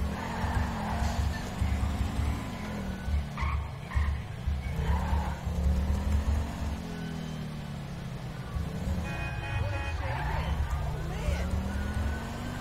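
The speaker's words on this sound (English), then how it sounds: "So for all the tires screeching, that kind of stuff" Car tires screech and skid in GTA 5 under a steady engine drone, with wavering squeals rising and falling across the whole stretch and faint voices mixed in.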